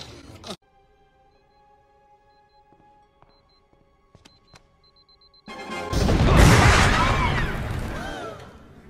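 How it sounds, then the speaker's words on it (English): A sharp crack opens, followed by quiet sparse clicks, then a loud rumbling blast erupts and slowly fades. "The explosion."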